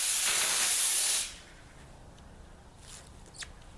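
Compressed air from a 150 psi air compressor blasts a spray into the air, giving a loud, broad hiss for about a second that cuts off abruptly, followed by faint rustling and a couple of small spatters.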